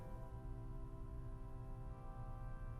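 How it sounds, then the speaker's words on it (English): Soft, sustained string tone from the Eoline stop of a 1906 Felgemacher pipe organ: a steady, gentle chord held evenly throughout, quiet and airy with no talking. "The Eoline, which is probably the softest string on this organ,"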